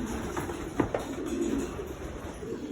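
Pigeons coo softly inside a pigeon loft, a few low throaty calls close by over a quiet background hum.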